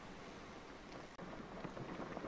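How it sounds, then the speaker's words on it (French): Rain beginning over the open ocean in a survival video game, a dense steady hiss of falling drops, broken once by a brief cut and then swelling slightly. "comme vous pouvez le voir, il commence à pleuvoir."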